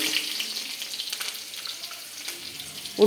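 Onion and mustard seeds sizzle and crackle steadily in oil in a pan, a bright hissing fry that continues throughout, with a brief clunk at the end.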